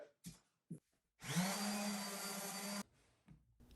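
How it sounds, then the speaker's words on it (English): Power sander working a wooden cutting board in a table saw workshop, one steady high whirring run of about a second and a half with a few short knocks and bumps before and after. "I will just be sanding these."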